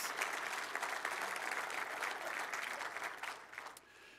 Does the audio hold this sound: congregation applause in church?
yes